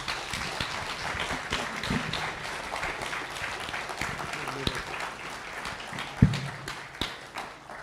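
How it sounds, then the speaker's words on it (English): A university debate audience claps for the debaters, scattered and fairly quiet applause with a few sharper individual claps standing out as it tapers off. "Let's all give a round of applause for both our debaters here."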